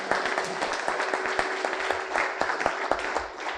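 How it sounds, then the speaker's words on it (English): An indoor audience at a panel discussion on the American Revolution gives a round of applause, a steady patter of many hands with sharper individual claps standing out, moderately loud and continuous. "can we get another round of applause for Pam Space"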